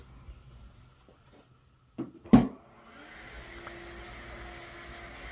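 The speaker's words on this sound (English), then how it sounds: "The very last thing that I do in each area after I've cleaned is vacuum." Vacuum cleaner in an Airbnb rental switching on after a couple of clicks and a thump, then a faint steady whirring hum that continues to the end.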